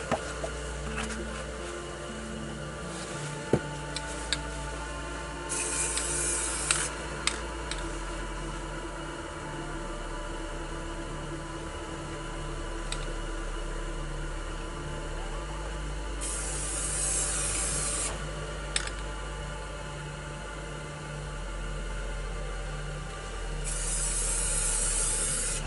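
Spray paint hisses onto a northern lights landscape painting in several separate bursts, some long and steady, with soft rubbing and paper handling between them, fairly quiet.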